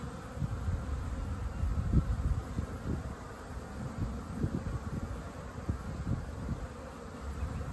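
Honeybees swarming in heavy activity around a spring beehive, a dense continuous buzz close by with wind-like rumble underneath and no voices.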